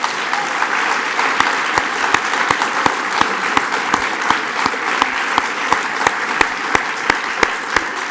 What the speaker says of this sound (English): So I would just like to give her a big round of applause.